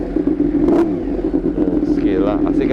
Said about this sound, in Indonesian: Waduh, 4 silinder tapi cross plan, suaranya kayak MotoGP banget.